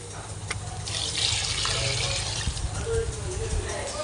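Water is poured onto plants in a village yard, a close, continuous splashing and gurgling stream lasting a few seconds.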